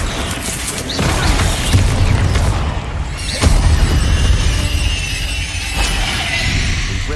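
An Incendio fire spell is cast in Hogwarts Legacy, with loud booming fire bursts over a rumbling low roar and sharp hits near one and three and a half seconds.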